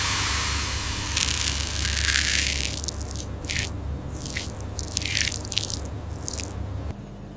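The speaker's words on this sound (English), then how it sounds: "It is heavy and dripping, saturated like a wet sponge." Thick fermented idli batter drips and squishes in a factory setting, giving a run of wet, irregular splats and drips over a steady low mechanical hum, fairly close and moderately loud.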